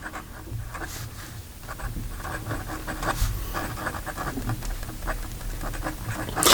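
A Montblanc Starwalker fountain pen writing in reverse on paper, producing a faint, slightly scratchy series of short nib strokes close up, with a louder rustle at the end.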